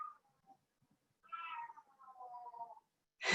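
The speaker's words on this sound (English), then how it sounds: "My cat Abigail is bringing us her snake" A pet cat meows while carrying a toy snake, giving a short cry, then a longer drawn-out meow, and a sudden bright burst at the very end, all close and fairly quiet.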